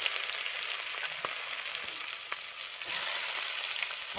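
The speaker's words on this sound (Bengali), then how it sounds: "পেঁয়াজটা ভালো করে ভেজে নেব।" Onions frying in hot oil in a pan with bay leaf and dried chilli for a village-style chicken curry, a steady bright sizzle with faint crackles and occasional stirring taps, close and continuous, without talking.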